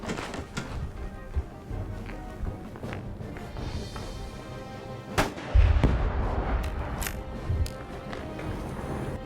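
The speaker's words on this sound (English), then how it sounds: "You have to shoot it with a high-powered rifle, and it's completely safe to transport. Just a really neat product. You can get some explosions" A high-powered rifle shot sets off an exploding target outdoors, producing a heavy, booming blast midway through, surrounded by scattered sharp reports and light background noise.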